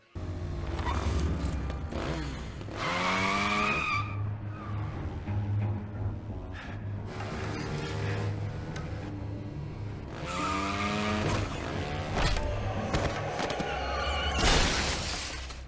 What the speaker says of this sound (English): Resulted in a chase between the train and the motorcycle.